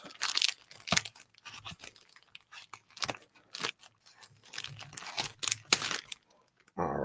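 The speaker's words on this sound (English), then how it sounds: "let's cut into this a little." A blade slices open a mail package, giving crisp tearing and crinkling cuts in uneven bursts, close and fairly loud, with quick rustles of cardboard and plastic in between and no talking.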